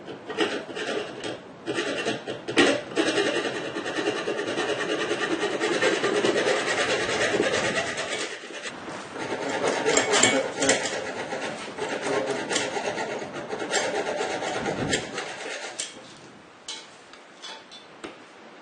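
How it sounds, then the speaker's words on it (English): A power tool grinds the head off a fastener on the wooden keel of a boat, a continuous raspy, buzzing grind with a steady rhythmic ticking, loud and close, running for most of the stretch before easing off near the end. "See, it's just grinding the head off it."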